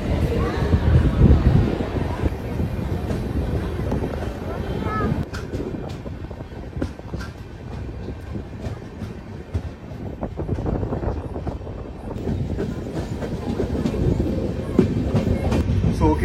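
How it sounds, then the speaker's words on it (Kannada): The Vasco da Gama Express passenger train pulls away from a station stop and runs along the track with a loud continuous rumble and rhythmic clatter. It is heard close up from inside, and voices talk faintly over the noise. "ಈಗ ನಮ್ಮ ಟ್ರೈನ್ ಮತ್ತೆ ಸ್ಟಾರ್ಟ್ ಆಗ್ತಾ ಇದೆ"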